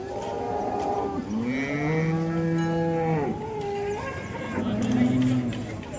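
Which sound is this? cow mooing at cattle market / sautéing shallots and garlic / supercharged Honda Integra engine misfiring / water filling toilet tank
cow mooing at cattle market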